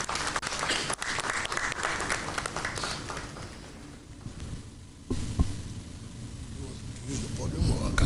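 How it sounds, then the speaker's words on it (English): A studio audience claps to welcome a guest on a morning radio show, with dense applause that gradually thins and dips midway, then picks back up toward the end. "Please, with a round of applause, help me welcome him."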